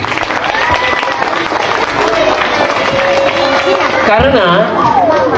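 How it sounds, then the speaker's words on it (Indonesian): Applause for teachers at a school opening ceremony in Lowokwaru, with a steady crowd noise of clapping mixed with children's voices and chatter filling the room throughout. "Tepuk tangan untuk guru-guru."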